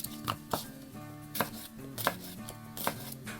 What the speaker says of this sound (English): I'm also going to grab one of these green peppers, and so I'll slice that into our 1/4 inch slices as well.